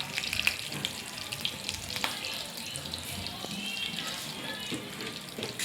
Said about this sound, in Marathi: जिरं व्यवस्थित परतवून घ्या।